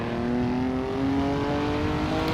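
A group of 1950 historic Formula 1 race cars at the Monaco Grand Prix in Monte Carlo in the video game Assetto Corsa, engines droning steadily at a high, sustained pitch, loud and continuous with no voices.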